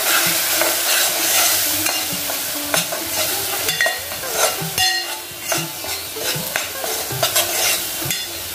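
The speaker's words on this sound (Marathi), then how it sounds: "तर व्यवस्थित मसाला परतून घेऊया" Homemade spice masala sizzles loudly in a hot pan for dried shrimp bhaji, with frequent scraping stirs of a spoon against metal in an irregular rhythm, close and without speech.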